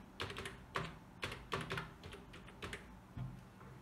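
Typing on a computer keyboard while filling in a name, with irregular clusters of clear key clicks at close range and no voices.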